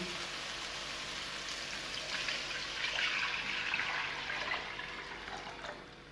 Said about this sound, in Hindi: मैं 4 कप चावल में 5 कप पानी ऐड कर रही हूँ